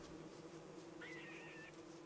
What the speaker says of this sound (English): I've got to watch the VOD to count how many bees are following me right now